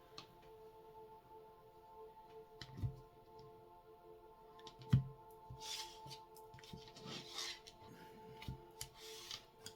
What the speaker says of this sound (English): last shuffle here, and then we're going to go ahead and cut the deck by 3